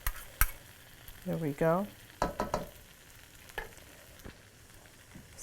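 Onions sauteed in a stir fry sizzle in the pan while a spatula stirs and scrapes in short bursts, with a brief spoken remark at the start.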